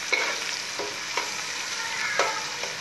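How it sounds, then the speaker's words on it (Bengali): Spice paste for chicken biryani fried in a pan while being stirred, a steady close sizzle broken by several sharp scrapes of the spoon, alone without any talk. "এই পর্যায়ে আমি এই পেস্টগুলি আমি বাদামি কালার করে ভেজে নিব।"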